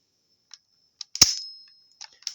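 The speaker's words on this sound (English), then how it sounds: "it pops the cannon out of the arm, like so" A 2005 Transformers Cybertron Primus toy's spring-loaded arm cannon pops out with one sharp snap, framed by a few small plastic clicks, close and clear with no talk.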